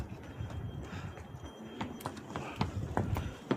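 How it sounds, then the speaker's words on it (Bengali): Donkey hooves clip-clopping on the rocky Everest Base Camp trail in Nepal, a string of uneven, fairly near hoof knocks over soft outdoor background. "গাধা ট্রাফিক"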